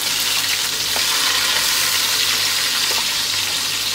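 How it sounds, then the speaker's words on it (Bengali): Chopped and ground onion with spices frying in hot oil, a dense steady sizzle with faint stirring clicks, close and fairly loud throughout, no talk. "এখন আমি এটার ভিতরে দিব পেঁয়াজ কুচি আর পেঁয়াজ বাটা"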